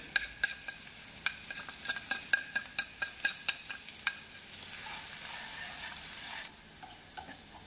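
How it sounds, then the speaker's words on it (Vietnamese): Garlic, shallots and lemongrass sizzle in a hot pan while a utensil scrapes and stirs in quick, irregular clicks, then the sizzling carries on steadily alone. "Rồi mình cho tỏi vào mình phi thơm lên trước."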